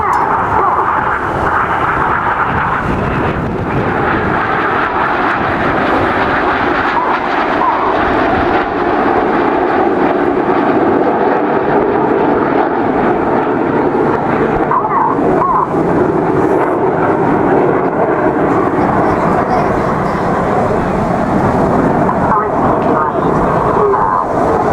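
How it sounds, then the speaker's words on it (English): Red Arrows jets roar overhead during an aerobatic display at the Bournemouth Airshow, a loud continuous rumbling drone that swells and fades over the whole stretch. "The inside pilots pitch up to roll to the outside as they fly the rollbacks"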